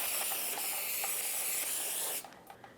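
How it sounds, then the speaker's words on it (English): A sustained hiss of brake cleaner sprayed onto a new rear brake rotor of a Nissan Altima goes on for about two seconds, close and loud, then stops, leaving a few light clicks and taps. "I'm going to spray right here where that caliper goes and spin it."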